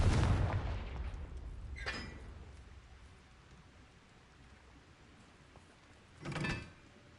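A Confringo fire spell goes off in Hogwarts Legacy, a burst of blasting bursts and crackle at the start, then a short whoosh, with a second loud explosive hit near the end over a quiet game background.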